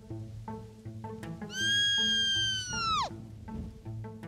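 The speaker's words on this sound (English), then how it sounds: "First cow call of the evening, and just got it like, bam! Immediate response bugle." A sika deer stag answers a cow call with a loud, high, whistling bugle that holds for about a second and a half and then drops away sharply. Faint clicks and rustling come before it and follow it.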